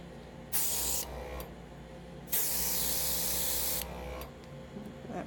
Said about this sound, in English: What I like about airbrush is it doesn't have to be perfect, because you just add a touch of color and it looks so good.